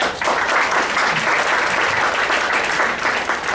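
Steady, dense applause from an audience fills the space, loud and continuous throughout with crowd clapping and no break.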